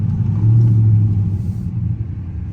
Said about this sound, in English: we're gonna drive through the city, man, with the Charger RT